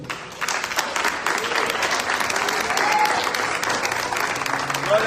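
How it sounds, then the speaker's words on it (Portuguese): Congregation applauding during a church service, a steady dense wash of clapping from many hands that holds for several seconds, with faint voices mixed underneath. "Se você crer, aplauda o Senhor."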